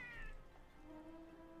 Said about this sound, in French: c'est notre chat. Notre palico,